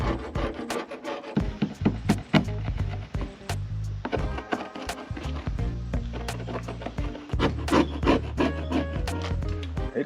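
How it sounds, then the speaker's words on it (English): Scraping clear bra adhesive off the paint of a BMW X5 E70: close, repeated rasping strokes with sharp knocks between them, fairly loud and steady throughout. "So I will commence with the scraping."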